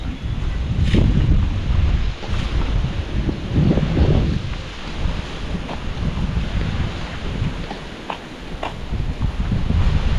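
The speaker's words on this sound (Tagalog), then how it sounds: "Grabe ang lakas ni Habagat" Strong Habagat monsoon wind buffets the microphone in heavy, uneven gusts, a loud continuous rumble rising and falling over about ten seconds, with faint clicks and rattles poking through.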